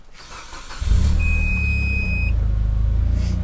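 A Mitsubishi Lancer Evo IX with a 2.3 stroker engine cranks and fires up about a second in, then settles into a loud, steady idle. A high electronic beep sounds briefly during the start.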